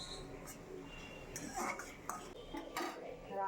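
Mushrooms stirred in a wok-style kadai to dry off leftover water: metallic scraping and utensil clinks against the pan, with a few sharper taps, fairly close and moderately loud.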